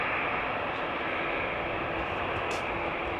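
A jet aircraft roars steadily at Amsterdam Schiphol Airport, a loud broadband rush with no voices.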